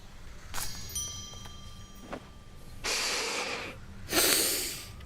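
A game character in Hades 2 sniffs at a plant: two breathy snorting sniffs, the second louder and longer, with faint chiming game tones and soft background noise earlier.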